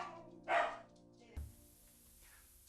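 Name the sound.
dog barking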